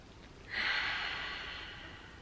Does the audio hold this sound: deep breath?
yes